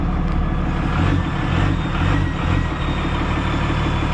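A diesel truck powered by a 5.9 Cummins 12-valve engine with a variable-geometry turbo, idling close by with a deep, loud, steady rumble and a gently pulsing rhythm.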